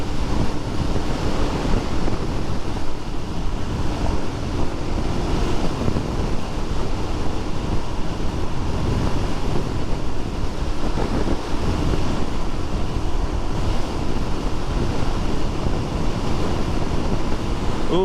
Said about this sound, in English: I don't know if you guys can hear the wind.